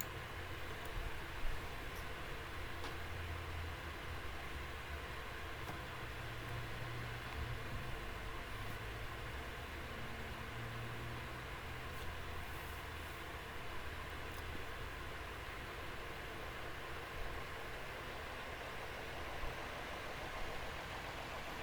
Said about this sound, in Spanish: arrancar nuestro generador de emergencia